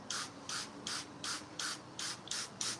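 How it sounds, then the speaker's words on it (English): A hand spray bottle mists potted bell pepper and hot pepper plants with a series of about eight short, evenly spaced hissing squirts, each close and crisp with little else around them. "we're still gonna go ahead and spray them"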